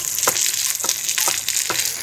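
Sliced onions frying in a pan for a Kerala mutton madhooth, a steady close sizzle broken by a few soft stirring scrapes, with no talking.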